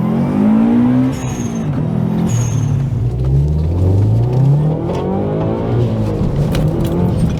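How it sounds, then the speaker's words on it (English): A Subaru Legacy 2.0T wagon's newer equal-length-header flat-four engine revs loudly and continuously, rising and falling in pitch under load as the car accelerates, heard from close inside with no talk over it. "It doesn't have that typical sound of a flat 4 that you're used to hearing from the older ones"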